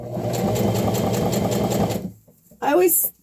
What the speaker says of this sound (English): So just back stitch a couple of stitches